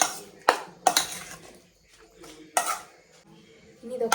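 A spoon knocks and scrapes against a bowl while guacamole ingredients, including onion, are mixed, giving several sharp clinks in an uneven rhythm separated by quieter stretches, with faint voices in the background.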